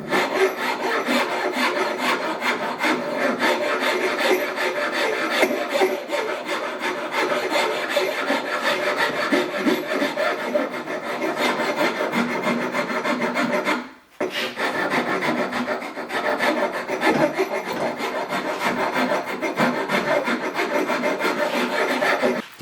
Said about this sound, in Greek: θα πάρουμε την ίσια λίμα, την αρκετά χοντρή όμως